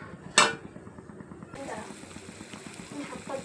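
A lid clanks down onto a pan of simmering fish curry, one sharp metallic clink followed by soft bubbling and faint kitchen clatter.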